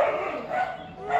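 Dogs barking and yipping outdoors at a rural family spot while they chase a cow, steady and fairly close over a continuous noisy background, with no clear separate talk.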